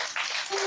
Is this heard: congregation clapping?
yes